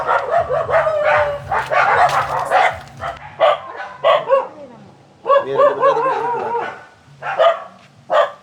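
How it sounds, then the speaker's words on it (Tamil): A dog barks in a series of loud, close bursts, pausing between volleys, with some quieter sounds in the gaps. "இதுக்குள்ளால வரும் நாய்."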